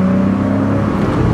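A convertible car drives on a summer outing, a steady engine hum and road rumble running loud and close, with no voices over it.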